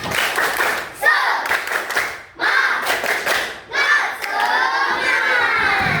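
Primary school children in a fourth-grade classroom clap and shout together in a group cheer, loud bursts of clapping and voices broken by short pauses, ending in a ragged trailing shout.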